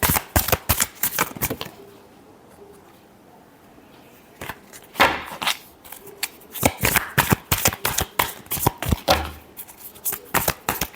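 Tarot cards shuffled in a dense, crackling run of riffles, a pause of faint handling in the middle, then more brisk bursts of card flutter close up, with no talking.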